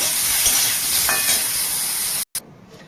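Bori and pumpkin pieces frying in hot oil until reddened for shukto, a steady close sizzle with faint stirring scrapes that cuts off abruptly near the end, no talk.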